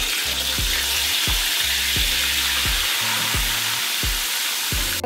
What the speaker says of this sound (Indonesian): Ini saya goreng tilapia pemirsa.